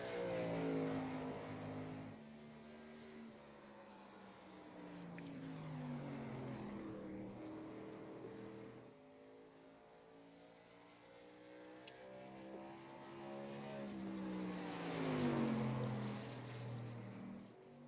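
Race trucks roar around an oval track in a racing video game, a steady engine drone with rising and falling pitch as trucks pass, swelling loudest near the end.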